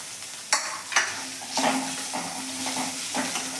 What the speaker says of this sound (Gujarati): હવે આપણે આને 2 મિનિટ માટે ધીમા ગેસે સાતળવા દઈશું.